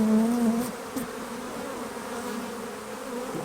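Honeybees buzz on the frames of a beginner beehive during a nectar flow, a close, steady hum of many insects with a louder individual bee droning past at the start.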